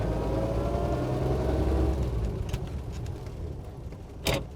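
An old bus engine pulls away in second gear, a low, heavy drone that builds then eases as it moves off, with a faint click near the end and no talk.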